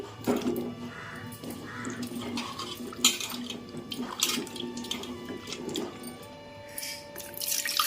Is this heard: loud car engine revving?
no